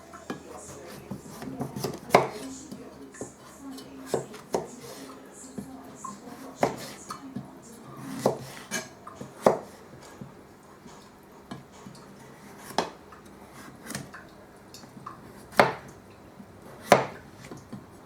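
A knife chops onions on a cutting board while a cream of pumpkin soup is prepared, giving sparse, crisp knocks at an uneven pace over a quiet kitchen background.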